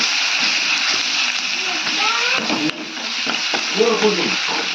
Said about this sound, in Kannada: ಇದು ಸ್ವಲ್ಪ ಹಸಿ ವಾಸನೆ ಹೋಗೋವರೆಗೂ ಫ್ರೈ ಮಾಡ್ಕೊಂಡು ಬರಬೇಕು